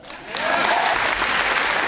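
An audience at an Obama speech breaks into a dense, steady wave of applause that rises quickly and holds at full strength for the whole short stretch.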